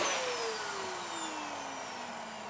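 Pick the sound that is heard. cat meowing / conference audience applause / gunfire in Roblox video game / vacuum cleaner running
vacuum cleaner running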